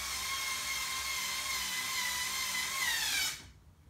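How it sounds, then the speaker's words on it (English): A power driver spinning 16mm M4 bolts in from the rear during assembly of a 3D printer bed, giving a steady high-pitched whine up close that holds for about three seconds before cutting off abruptly. "now I can drive my 16mm M4 bolts through from the rear"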